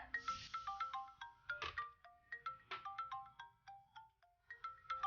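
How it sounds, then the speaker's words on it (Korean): A mobile phone ringtone plays a bright, repeating melodic chime over and over, clear and fairly close, with no voices. "전화네요"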